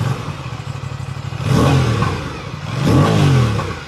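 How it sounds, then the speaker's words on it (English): A motorcycle engine idles with a rough, rapid putter, then revs up twice in quick surges, each climbing and falling back, loud and close. "this is the only bike that I want to give you a sound check on"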